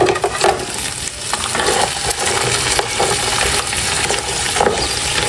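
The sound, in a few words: sautéing spices (ricado) with crabs for mung bean stew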